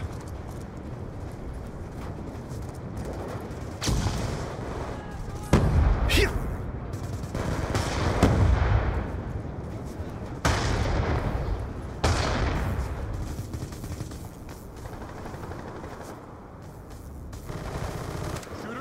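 Call of Duty Black Ops 2 multiplayer gunfire comes as scattered loud shots and short bursts, some bright and sharp, spread across a stretch of game ambience with occasional quieter gaps.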